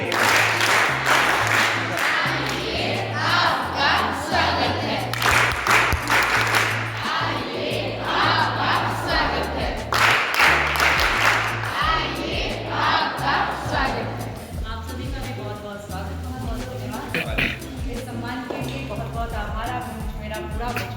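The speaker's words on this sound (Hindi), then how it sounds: "मैडम के लिए स्वागत, ताली।" Sustained applause from a crowd welcomes a guest at a school Scouts and Guides function held for Atal Bihari Vajpayee's 100th birth anniversary, the clapping loud and continuous over a music bed before tapering off as a voice speaks.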